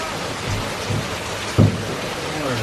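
Steady rain pours down outdoors over a house roof under construction, a continuous wash of patter with a brief louder knock or thump partway through and no talk.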